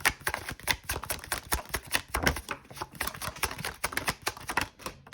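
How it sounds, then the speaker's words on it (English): A tarot card deck being shuffled by hand, with cards spilling out of the deck: rapid papery riffling and flicking in quick bursts, close and fairly quiet, with no voices. "Oh, the deck's falling out now, but that's my fault as the shuffler."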